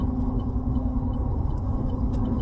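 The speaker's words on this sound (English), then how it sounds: "so I got some pretty noisy tires on this truck. That's a whining you're hearing." Noisy winter tires on a pickup truck whine steadily over a deep road rumble, a constant close drone from inside the cab while driving.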